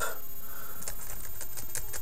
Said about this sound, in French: je tape, je compose directement sur la tablette, sur le clavier directement qui est associé à la tablette